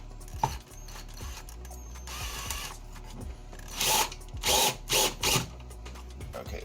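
A power drill drives screws into a wall panel inside a converted school bus, several short whirring bursts of driving, close and moderately loud, with clicks and handling noises between.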